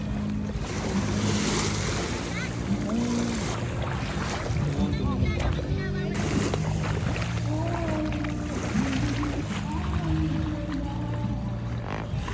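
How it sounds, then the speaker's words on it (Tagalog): Sea waves wash onto a beach with steady surf and wind noise, while people talk and other background voices carry on throughout. "Dagat."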